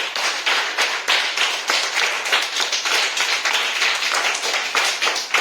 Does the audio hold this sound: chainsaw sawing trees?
no